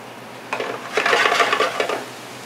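Vegetables sweating in a preheated sauté pan: a burst of stirring and utensil clatter with light sizzle, close and moderately loud for about a second and a half, then fading, without speech.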